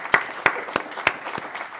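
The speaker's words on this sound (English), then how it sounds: "Let's give our speakers a nice round of applause." A conference audience claps for panel speakers at an infrastructure event, moderate applause with several distinct sharp claps standing out over a thinner continuous patter.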